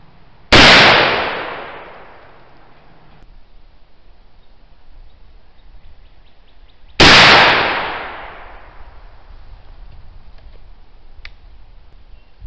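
Two loud black powder gunshots, 60-grain charges of homemade corn buckthorn alder charcoal powder, each a sharp blast with a long decaying tail, spaced about six seconds apart and heard alone.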